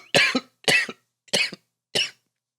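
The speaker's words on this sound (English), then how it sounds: "How long have you had that cough?" Four harsh coughs, close and loud, spaced about half a second apart with short silences between them, the last one a little weaker.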